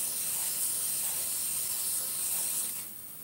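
A short hiss of WD-40 sprayed from an aerosol can, fairly close and steady for a few seconds before tapering off at the end, with no voices.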